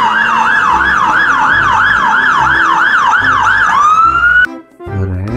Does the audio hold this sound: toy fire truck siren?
yes